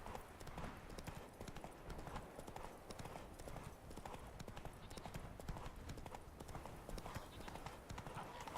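A horse gallops in the video game The Witcher 3: a quiet, steady stream of rapid clip-clopping hooves runs throughout over faint in-game ambience.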